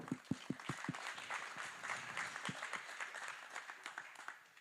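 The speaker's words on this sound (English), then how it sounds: "let's give a round of applause to our panelists" Scattered claps open, then fuller but fairly quiet applause from a conference audience welcoming AI transformation panelists, with a few distinct hand claps standing out.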